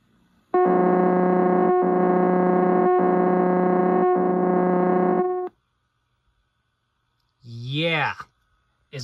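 A brief, rising and falling moaning voice sounds at the end of a VHS tape's closing white screen. It follows several seconds of loud, steady, buzzing tone and a short silence.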